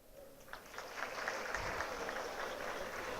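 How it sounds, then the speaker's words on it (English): Applause from the audience at a college annual day, a soft, even patter of clapping that swells after the first second and carries on steadily, with a faint crowd murmur. "a very big round of applause for girls engineers."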